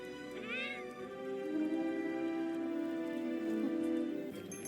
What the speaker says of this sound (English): This cat is so cute.